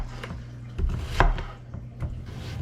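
A knife cuts through an onion on a board in a few separate, scattered knocks, fairly close and fairly quiet, with no talking.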